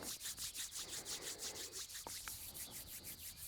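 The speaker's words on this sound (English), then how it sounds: "Rub them together, create a warm friction." Hands rubbing briskly together for warmth during a relaxation yoga session, a soft rhythmic swishing of skin on skin repeated many times, quiet and close with no talking.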